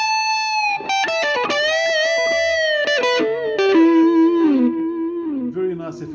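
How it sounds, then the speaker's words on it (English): Electric guitar played through a Nux Mighty 8 amplifier with its delay effect engaged: sustained notes and chords ring out with repeating echoes and wide harmonics, descending in pitch over time, loud and close with no talking. "Put to delay now."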